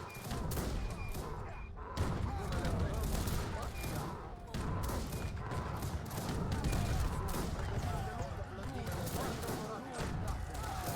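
Musket volleys and battle noise from the real-time strategy game Wars of Liberty: dense, overlapping gunfire cracks and dull thuds roll on without pause across the whole stretch, loud and close.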